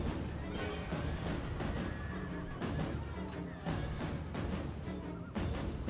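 Horses neigh repeatedly amid a dense, continuous battle din of clashing and hooves as horse archers charge in Rome: Total War with the Darthmod mod, Seleucid Empire campaign.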